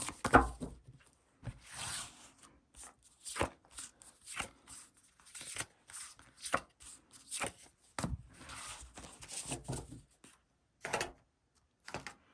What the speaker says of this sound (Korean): 먼저 A를 선택했을 때의 카드를 뽑아보도록 합시다